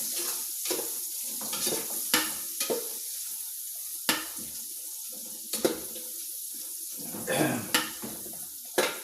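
Ginataang langka stirred in a cooking pan: repeated wet scraping and clacking strokes over a bubbling, watery simmer, fairly close and uneven in rhythm, with no voices.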